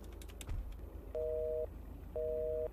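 A busy tone from a phone call that won't connect to a switched-off phone in GTA 5 roleplay, two flat, steady beeps about a second apart after some faint clicks, no talk.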